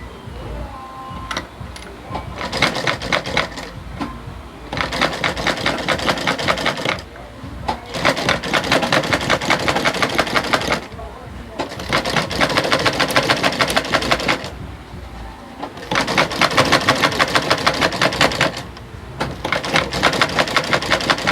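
A sewing machine top-stitches a pleated peplum gown in loud rapid bursts of mechanical chatter several seconds long, separated by brief pauses, heard close up.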